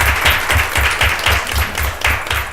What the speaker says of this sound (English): I just want to give you a round of applause and just say thank you.